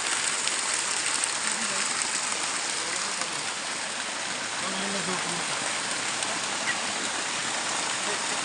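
A natural waterfall of cold spring water runs at Khasia Punji in Jaflong, Sylhet, giving a dense, even hiss of falling water that stays constant and fairly loud, with only faint traces of anything else.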